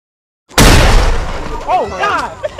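One loud, close firework blast booms suddenly after a brief silence and rumbles away. Excited shouting follows over the fading echo.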